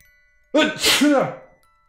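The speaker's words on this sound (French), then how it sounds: "Je vais éternuer." A single loud sneeze close to the microphone, with a sharp intake then a forceful burst, in an otherwise quiet room.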